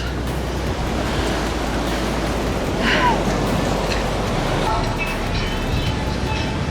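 Ocean waves wash steadily onto a beach in Canggu, Bali, at sunset, a continuous close surf roar with wind buffeting the microphone and a faint swell midway.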